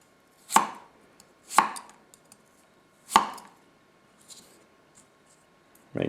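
A Tanaka Ironwood 160mm nakiri knife cuts vegetables on a board in three crisp, loud chops at uneven spacing, each a sharp thunk with a brief ring, followed by a softer tap in a quiet room.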